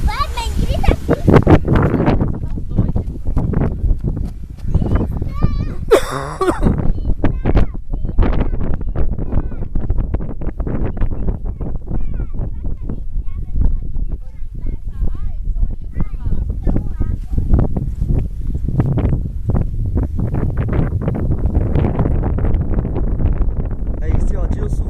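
Strong wind buffets the microphone in continuous loud gusts outdoors, while adults and children talk and shout over it.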